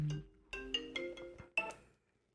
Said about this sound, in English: Oh my God, I forgot to mute my phone.